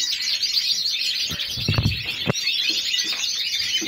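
Caged birds twitter steadily throughout, with a brief low thump and rustle near the middle; no one speaks.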